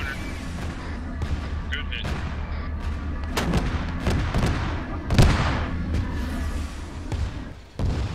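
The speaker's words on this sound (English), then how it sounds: "Get down, artillery." Mortar and artillery strikes land in Arma 3 gameplay as a series of sharp booms and blasts, some near and heavy, spread irregularly over steady battlefield noise with voices talking.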